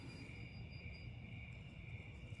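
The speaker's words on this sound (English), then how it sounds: "Crickets and frogs." Crickets and frogs call on a quiet farm at night, making a steady high-pitched trill that runs continuously and faintly under a low, even background rumble.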